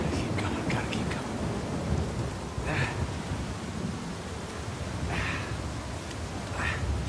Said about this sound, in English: And this storm looks pretty bad.